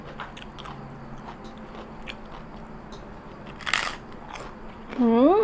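Someone bites into a crispy fried wonton, giving one loud, close crunch over quiet background, followed by a short murmured voice of approval.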